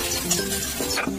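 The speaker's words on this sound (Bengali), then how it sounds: "সেই সঙ্গে কলা ভেজে নিচ্ছি। শুকনো লঙ্কা দিয়ে কলাটা ভেজে নেবো" Plantain frying in a pan with dried chillies, a brief close hiss and sizzle with a couple of light clinks.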